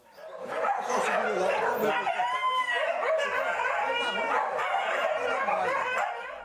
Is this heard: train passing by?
no